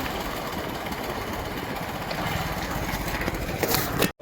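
A farm tractor engine running steadily while driving home on the road in the evening, a continuous low rumbling drone with some rattle, close and unbroken, no talk over it.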